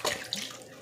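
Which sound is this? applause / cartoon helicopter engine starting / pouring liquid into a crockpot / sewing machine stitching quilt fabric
pouring liquid into a crockpot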